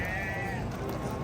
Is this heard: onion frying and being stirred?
no